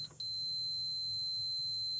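A multimeter gives a continuity beep as its test leads close across a TCC lockup solenoid circuit: one steady, high electronic tone that starts after a brief blip and holds loud and unbroken to the end.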